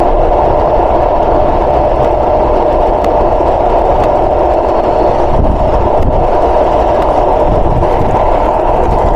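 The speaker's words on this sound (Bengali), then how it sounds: "অভিযাত্রী কমিউটার এবার ছুটে চলছে তার ডেস্টিনেশন রাজধানী ঢাকার পথে" The Avijatri Commuter train rumbles along toward Dhaka continuously with a steady, loud mechanical drone and rhythmic rattling of the carriages.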